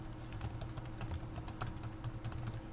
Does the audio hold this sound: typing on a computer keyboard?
yes